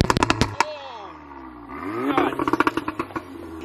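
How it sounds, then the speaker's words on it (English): VW Golf R Mk7 with an APR downpipe and pops-and-bangs tune, revving up and down in loud sweeps, each followed by rapid bursts of sharp exhaust crackles and bangs. "Give it some revs."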